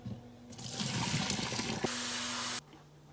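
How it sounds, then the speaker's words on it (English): Boiling water poured off a pot of saltfish into a sink, a steady gushing splash lasting about two seconds and ending abruptly, with a quieter hiss of steam and water before and after. "What I'm going to do is throw the water off and replace it with fresh water and boil it again."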